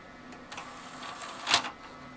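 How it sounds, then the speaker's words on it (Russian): Optical disc drive being tested after cleaning and lubrication, its laser and mechanism producing faint ticks and soft whirring, with one sharper mechanical clack near the end. "Лазер включается и начинается работа лазера. Значит, привод работает успешно."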